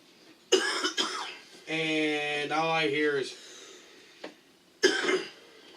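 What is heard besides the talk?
coughing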